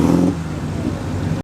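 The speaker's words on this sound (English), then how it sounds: "Another supercharged MG right here." A supercharged MG car accelerates on a hillclimb course, its engine note loud and close for a brief burst before settling into a steady drone, with a sudden cutoff near the end.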